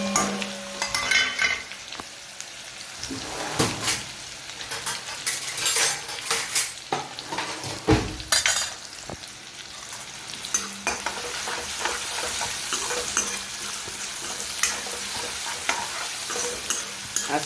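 Amaranth greens are tempered in a pan with dried fenugreek, garlic and green chillies, sizzling steadily close by while a utensil scrapes and stirs in repeated strokes with occasional clinks, and no one talks.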